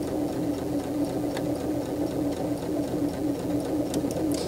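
A sewing machine stitches an automatic buttonhole with a steady, even mechanical whirr and a fast rhythmic ticking of the needle moving back and forth, close and continuous throughout.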